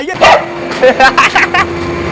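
A tied-up Rottweiler gives several close, loud barks and yips in quick bursts while someone plays with it, with a steady hum underneath.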